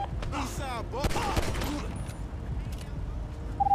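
Bursts of video-game gunfire from a GTA roleplay session, several quick shot clusters early on that fade into background noise, with players talking over the action.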